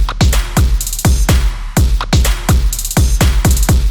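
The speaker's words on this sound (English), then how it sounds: "So all of the drums were now routed to one mixer track where I could add this thermal distortion preset." Electronic K-pop drum loop programmed in FL Studio and run through a thermal distortion preset: punchy, saturated kicks and crunchy snares in a tight repeating pattern with gritty hi-hat bursts, loud and upfront with no voices.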